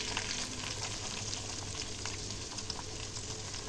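Chopped onion, bay leaf and dried chilies fry in mustard oil, giving a steady, close hiss and crackle of sizzling with faint stirring, no voices.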